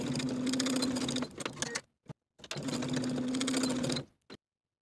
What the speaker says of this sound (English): we're going to sew through all of those layers, straight across the bottom just as far as the fold with a 1/2 inch seam allowance